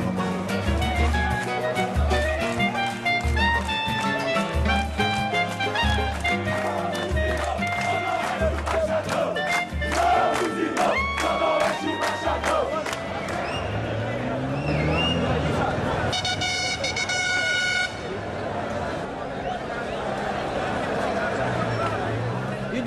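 Flamengo football fans in Rio de Janeiro chant together in a loud, sustained crowd song that runs without a break, with a rhythmic pulse underneath and a brief shift in tone near the end.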